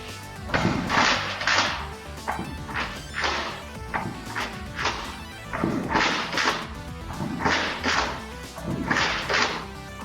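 A Nerf Modulus Longstrike CS-6 blaster firing foam darts at a table: a quick series of sharp, snappy thwacks, often in close pairs, repeating over several seconds at close range.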